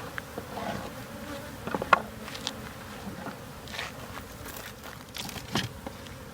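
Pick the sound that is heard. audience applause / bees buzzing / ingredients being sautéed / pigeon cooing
bees buzzing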